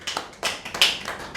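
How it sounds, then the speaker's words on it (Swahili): A church congregation at a Swahili sermon claps briefly, with a handful of scattered, uneven claps over about a second and a half. "Pe Bwana makofi."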